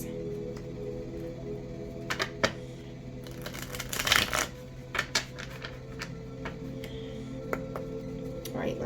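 A deck of tarot cards being shuffled by hand, close, soft riffles and papery flicks in short irregular bursts with a louder flurry midway, over a quiet room.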